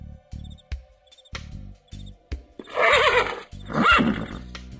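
Cartoon horses in the Darkestville Castle adventure game give two loud whinnies, one after another, following a run of short clicks and thuds.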